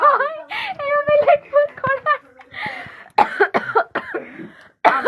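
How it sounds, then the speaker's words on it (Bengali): Several short coughs break up lively talk from young voices, with a giggle or two mixed in. "আমারও কাশি শুরু হয়ে গেছে"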